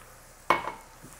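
A spoon makes a single short scrape and slosh through heavy cream and chopped portobello mushrooms in a pot, a quick close stir that fades into quiet kitchen background.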